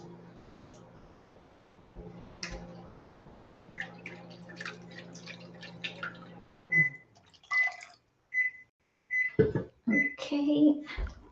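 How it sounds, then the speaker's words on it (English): Extra liquid is poured into a cooking pot and swilled around, giving soft trickling and dripping splashes that come and go, with a person talking over much of it. "I'll pour some more liquid in here, swill it around, and we'll put the rest in that way."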